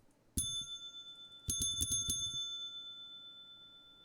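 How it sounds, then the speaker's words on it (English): Desk bell in a video game: one bright metallic ding, a pause, then a quick burst of about five rapid dings, each ringing out and fading, clean and alone with no talking. "It's just a desk bell."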